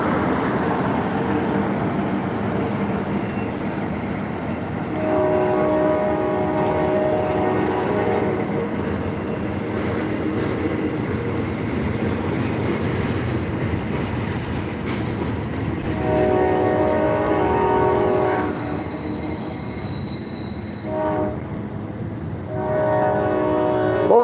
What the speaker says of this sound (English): that was a short train right there